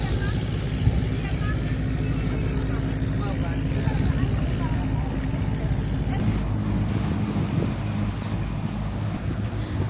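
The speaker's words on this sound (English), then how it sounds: "The kind of rumble of the motor and the sound of the waves" A yacht's motor rumbles low and steady on a tour off Krabi, Thailand, with waves washing and wind buffeting the microphone throughout.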